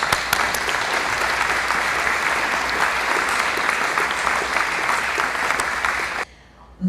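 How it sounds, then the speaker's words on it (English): A large audience at a POW/MIA Recognition Day ceremony at the Palm Springs Air Museum applauds loudly and continuously for about six seconds before the clapping cuts off abruptly. "let's give them all a round of applause"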